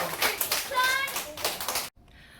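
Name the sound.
class applauding after a baking soda balloon experiment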